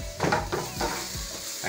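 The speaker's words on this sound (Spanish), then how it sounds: "Ahí tenemos los champi doraditos, ya se empezaron a dorar" Mushrooms browning in a hot pan for a risotto with artichokes, a steady close sizzle with a few scraping stirs of a utensil against the pan.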